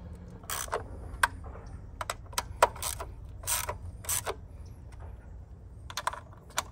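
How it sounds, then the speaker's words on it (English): A ratchet snugs valve cover bolts on a Mitsubishi Lancer, sounding as close, crisp clicking runs in short irregular bursts with brief pauses, over a low background hum. "So just tighten it like that, like just snug it up."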